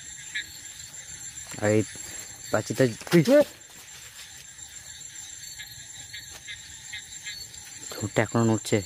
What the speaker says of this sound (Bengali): শুধু ব্যাঙের ডাক আর ঝিঝি পোকার ডাক ছাড়া অন্য কিছু শোনা যাচ্ছে না